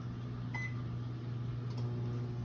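A microwave oven running while heating wool yarn in Kool-Aid dye, a steady low electrical hum with a faint fan whir and a couple of small clicks, close and constant, no voices.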